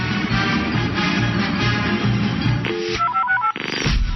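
On an AM sports radio broadcast, a telephone ringing effect sounds over a dense music bed, followed by a short series of electronic dialing tones.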